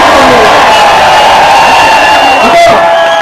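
A large crowd cheers and shouts loudly and steadily at a political rally at Raigad fort, the roar staying at full strength throughout.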